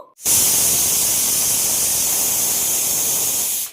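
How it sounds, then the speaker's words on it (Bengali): A pressure cooker holding tomatoes releases a loud, steady rush of hissing steam that starts abruptly and holds for several seconds, close by. "এবার প্রেশার কুকারের ঢাকনাটা আটকে দুটো সিটে দিয়ে নেব"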